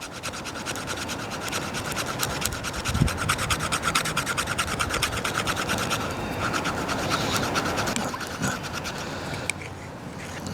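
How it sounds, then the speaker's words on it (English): The spine of a Cold Steel SRK Compact knife scrapes fat wood in a steady run of close, raspy strokes that continue throughout. "let's see how well the back of this thing scrapes"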